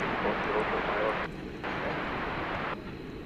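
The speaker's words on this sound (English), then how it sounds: "There's coming in American 777, Flight 777, operated by an Airbus A321" An American Airlines Airbus A321 arrives at DFW Airport after dark, a soft, distant engine roar with a steady low rumble and brief dips in level, mixed with faint background voice.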